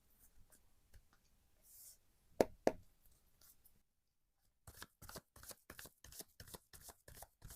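Tarot cards being shuffled and drawn, close and quiet: soft rubbing and a couple of sharp taps, a brief pause, then a rapid run of crisp riffling flicks.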